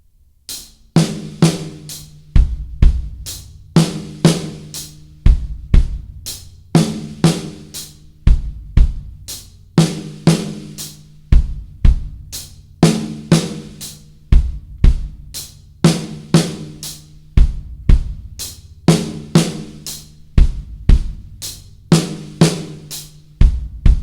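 A drum pattern repeats steadily: crisp hi-hat and snare hits followed by two punchy kick drum thumps, looping over and over with no talking.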